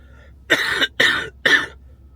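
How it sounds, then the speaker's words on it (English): Three sharp coughs in a row, evenly spaced about half a second apart, close and fairly loud, with quiet in between. "I will say that is my first cough for the morning."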